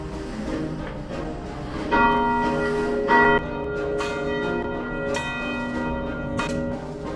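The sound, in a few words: church bell ringing for Easter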